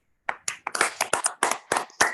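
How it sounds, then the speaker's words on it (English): A round of applause at a Toastmasters meeting, heard as a few people clapping in a sparse, uneven patter of distinct hand claps, close and moderately loud, with no talking. "could you please give a warm round of applause to the role players and all the speakers"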